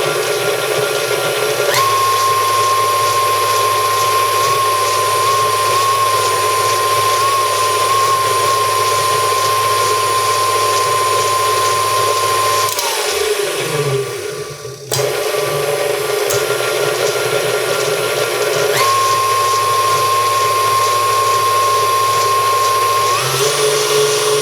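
A KitchenAid stand mixer in Majestic Yellow runs loudly and continuously with a steady motor whine and a rattle low in the machine, briefly dipping and stuttering midway before resuming its constant hum.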